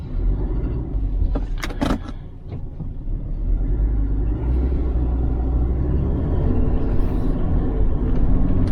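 A Ford Ranger pickup truck with a P040D fault code being driven on the road, a low steady engine and road rumble from inside the cab after a few rattling clicks near the start.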